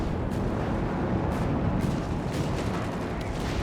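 Artillery shells and projectiles exploding in Company of Heroes 3, a World War II strategy game battle of German forces against British tanks: a dense, continuous rumble of blasts and gunfire with no clear gaps, loud and steady throughout.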